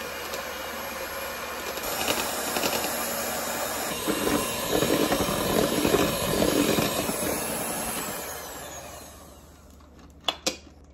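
Cream whisked in a very cold bowl for a berry trifle gives a steady, dense whirring rasp that runs for about nine seconds, then cuts off, followed by a couple of light knocks.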